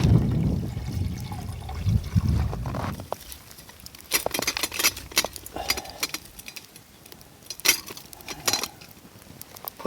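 Water runs and splashes at first, then trickles and patters in brief bursts as a pot is filled for boiling beside a lit campfire in snow, close and fairly loud with no talk.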